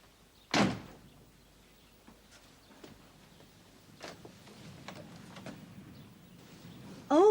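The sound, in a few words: door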